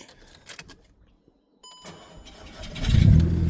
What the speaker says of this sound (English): if I start the engine for you, you'll listen to how rough she sounds.